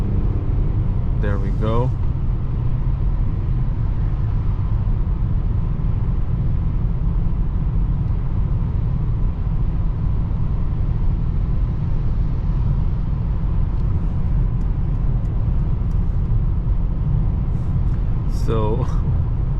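Mercedes-Benz S-Class 2021 cruising on a highway at 130 km/h, a steady low road and wind rumble from inside the cabin, with brief speech at the start and near the end.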